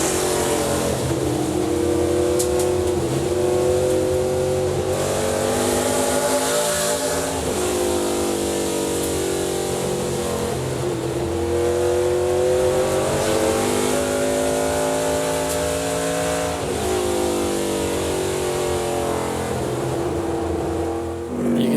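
An ARCA race car screams around the 0.4-mile Berlin oval, the on-board engine roaring loud and continuous as it rises and falls with throttle through each turn, with no talking.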